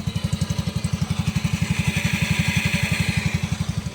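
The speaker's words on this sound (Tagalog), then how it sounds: "Honda Beat FI, ayan o. Yun, so yung nakabit na natin, umandar na rin." A Honda Beat FI motorcycle engine runs after a repair, with a steady rapid low putter at a fast even idle rhythm, close and continuous with no talk.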